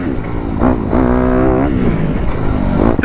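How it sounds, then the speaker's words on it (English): A 450 dirt bike engine revs at low speed around a parking lot, its rising and falling throttle blips close and loud, with a sustained pull in the middle and no talking. "letting Cody get used to it, letting Lucas get used to the throttle of a 450"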